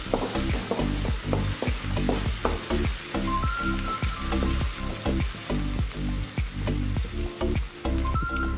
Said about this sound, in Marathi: आता मी इथं मिरची घालतो. मिरची पण बरी फ्राय करून घेऊया.